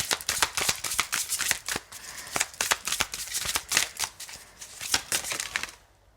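Playing cards are shuffled by hand in quick repeated riffles and snaps, close and crisp, in an uneven rhythm that stops abruptly at the end.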